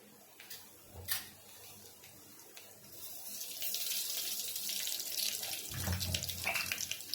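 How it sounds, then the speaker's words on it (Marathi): Mustard seeds and cumin spluttering in hot oil for a Maharashtrian dahi kadhi, a hissing, crackling sizzle that swells and holds steady after a quieter start, heard up close with no talking. "आपण इथे तेल गरम करायला ठेवलेलं आहे आता आपण ह्याच्यात राई आणि जिरं टाकून घेऊया"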